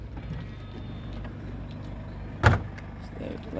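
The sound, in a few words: Mercedes C250d electric tailgate operating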